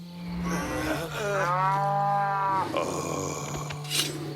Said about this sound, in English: We just surrounded a bunch of cows.